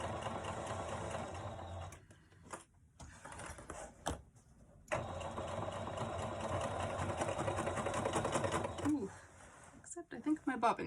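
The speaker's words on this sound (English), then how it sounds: "until we get to the strap connector, it's going to sew nice and easy" A sewing machine stitches a seam on a tote bag, whirring steadily for long stretches with short stops and a stutter near the end, while a person talks over it.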